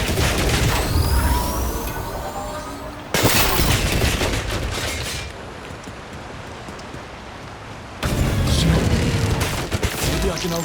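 Turrets fire in 007 First Light in dense rattling bursts that blur into a hard, rain-like patter. The loud stretches break off into a quieter lull before the heavy fire resumes.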